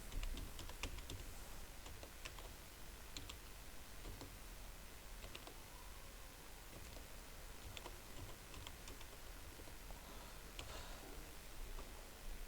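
Fingers type quietly on a computer keyboard while entering loan interest figures into an Excel spreadsheet, with scattered soft key clicks and taps over a faint steady background hiss.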